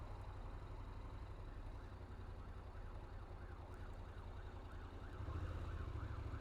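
An ambulance siren wails in a repeating up-and-down pattern, faint and distant, over a low steady rumble of London street traffic.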